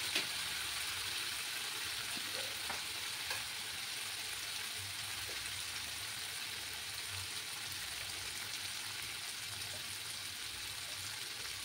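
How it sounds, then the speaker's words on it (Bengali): Turmeric powder sautés in a pan for a Bengali katla fish curry, giving a soft, even, continuous sizzling hiss with a few faint stirring taps. "এবার আমি পরিমাণ মতো 1 চামচের মতো হলুদ গুঁড়ো দেবো। দিয়ে ভালো করে কষিয়ে নেব।"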